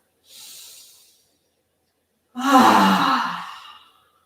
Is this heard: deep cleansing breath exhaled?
yes